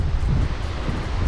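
Waves breaking against the breakwater at Sendang Asih beach in Kendal, a steady low rumbling wash mixed with wind buffeting on the microphone, with no one speaking.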